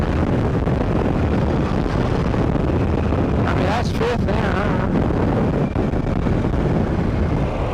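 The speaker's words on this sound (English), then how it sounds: "Of course, it had to be a windy day," Heavy, constant wind buffeting roars against the microphone while riding a Harley-Davidson Pan America motorcycle on a windy day, loud and steady throughout, with a voice speaking briefly through it.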